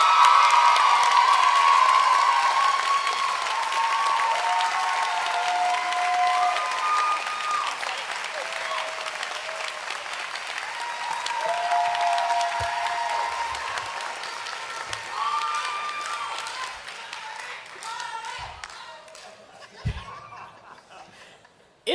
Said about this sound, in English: Please join me in applauding the 2015 Silver Circle Award recipient,